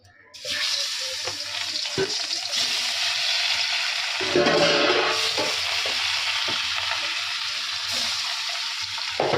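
Five-spice seeds and a chili hit hot fish-flavoured oil with a sudden burst, then settle into a continuous close crackling sizzle, briefly stirred.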